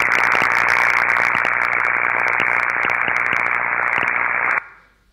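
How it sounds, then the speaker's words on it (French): Corona discharge from electrical equipment: a steady, harsh buzz with a low hum as air vibrates at the 50 Hz current frequency, continuous and loud, cutting off abruptly near the end. "Ce que vous entendez là, c'est l'air qui vibre à la fréquence du courant."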